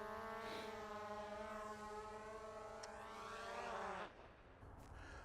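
A Skydio 2 drone coming in to land, its propellers giving a loud steady whine with several layered tones that bend in pitch, then cut to a quieter hum as it settles.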